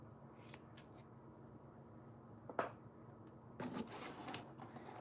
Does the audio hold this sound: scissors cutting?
yes